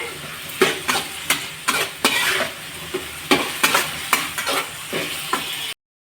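Onion and tomato sautéing in a pan for a vegetarian stir-fry, steady sizzling broken by repeated scraping stirs, then abrupt silence.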